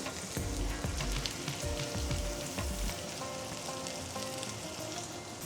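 Lamb chops with garlic and herb sprigs frying in a pan give a loud, steady sizzle and crackle, with heavier spitting in the first few seconds before settling into a continuous hiss; no one speaks.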